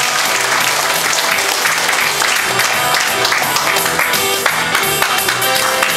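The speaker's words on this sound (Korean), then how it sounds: "큰 박수 주시기 바랍니다." An audience claps steadily at a formal inauguration ceremony for a memorial society's new chairman, dense ongoing applause with some faint background voices and a hint of music mixed in.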